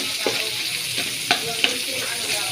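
Onion and garlic sizzling in hot oil in a pan for chicken biryani, a dense close hiss broken by a few sharp spatula clicks and scrapes, with no voices over it.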